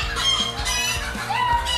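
A rooster at a breeding farm gives repeated low clucks in a steady rhythm, close by, with a brief higher call near the end over constant farmyard background noise.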